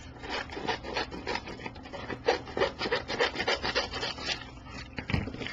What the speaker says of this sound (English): Now, you're going to cut off the excess.